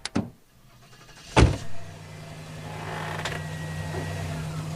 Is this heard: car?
yes